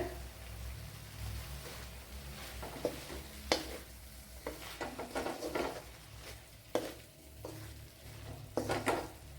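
A large tomato goes into a hot frying pan with cauliflower and carrots and is stirred, giving soft sizzling and scraping spoon clatter in uneven bursts, close by with no talk.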